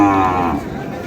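A Sahiwal bull at a Chattogram trader's cattle farm gives one deep, drawn-out moo, loud and close, then trails off into background murmur and noise.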